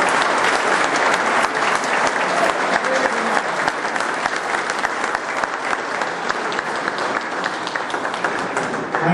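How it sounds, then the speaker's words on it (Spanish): Dense, sustained applause from a crowd gathered for a class reunion marking a graduating class's ruby anniversary, loud and steady throughout with no break. "Yo creo que eso merece un aplauso."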